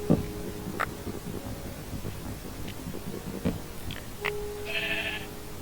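A sheep in the Minecraft video game bleats once near the end, a short nasal cry over soft ambient game sound with a few faint clicks earlier.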